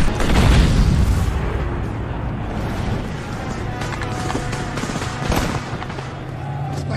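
Artillery fire strikes a German tank in a war film battle scene, a heavy booming blast up front that rolls into a long rumbling decay with scattered crackling and later thuds.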